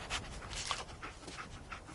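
Dogmeat, the dog in the video game, pants quietly close by in quick, rhythmic breathy puffs, with no talk over it.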